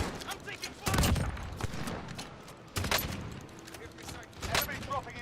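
Video game gunfire comes in several short bursts spread across the clip, mixed with in-game effects. The shots are moderately loud and sit under and between a player's talk.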